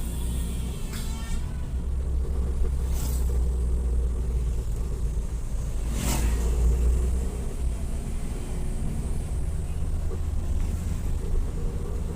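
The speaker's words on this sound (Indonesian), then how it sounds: "Motornya, kendaraannya kenceng-kenceng sini." Motorbikes and other vehicles speeding along a freshly resurfaced winding road toward Garut, a steady loud engine rumble with passing swells and no break in the traffic noise.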